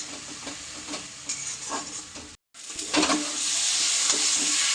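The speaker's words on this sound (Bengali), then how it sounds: "আমি একটু মশলা দিয়ে আলুটাকে ভালো করে একটু কষিয়ে নিয়েছি" Potatoes sauté with spices in a hot pan, a loud, steady sizzle broken by stirring scrapes, with a brief gap midway before the frying resumes.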